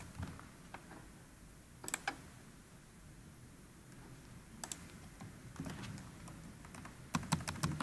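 Keys tap on a computer keyboard in short, quiet bursts separated by pauses, with a faint background hiss and no talking.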